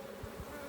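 Honeybee fanning her wings at the hive entrance, a faint, steady buzzing drone, very brief and close.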